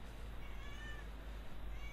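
A house cat meows in a drawn-out, wavering call, close and clear over a steady low background hum, one continuous cry lasting about two seconds.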